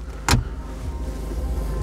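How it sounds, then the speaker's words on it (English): Folding door mirrors whir briefly on a BMW X1 xDrive, a short motor burst heard close inside the car over a steady low background hum. "There's those folding door mirrors."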